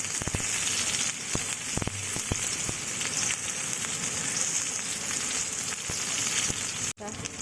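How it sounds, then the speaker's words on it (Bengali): Chopped onions sizzle and crackle steadily in hot oil in a wok, a loud continuous frying hiss with scattered pops and light stirring clicks. "এই অবস্থায় কড়াই আমি অ্যাড করে দিচ্ছি পেঁয়াজ কুচি।"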